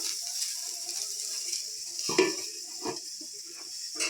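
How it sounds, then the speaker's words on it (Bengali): Eggplant slices fry in a kadai with very little oil, giving a soft, quiet sizzle nearby, punctuated by a few clinks and scrapes of a utensil against the pan. "বেগুন ভাজা হচ্ছে"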